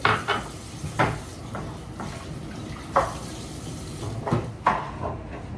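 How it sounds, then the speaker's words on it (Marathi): Dishes clatter and scrape at a sink with running water in the background, a few sharper knocks of pots against each other standing out. "तो इतकी माझी काही भांडी आहेत जी मी घासतोय"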